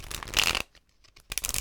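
A deck of cards shuffled right against the microphone, with two loud riffling bursts separated by a brief quiet gap and no voice over them.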